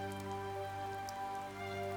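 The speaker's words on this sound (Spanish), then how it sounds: "la mujer empujó la puerta con cuidado y el sonido de la lluvia se escuchó más claro" Steady rain falls outside at night, a dense, even patter that stays close and continuous with no voices over it.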